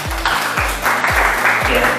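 Classroom applause for a student group about to present, a broad wash of clapping that holds steady through the short stretch while repeated low tonal sweeps sit underneath.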